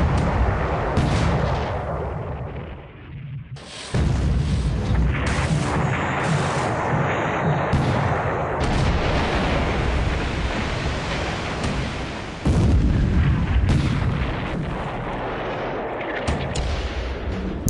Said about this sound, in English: Mostly 4-inch guns peppering the heavy cruisers